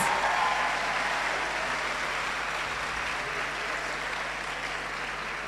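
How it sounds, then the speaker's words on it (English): Steady applause from a crowd at a medical school pledge ceremony, sustained and fairly even throughout, with no talking over it. "give all these doctors a round of applause"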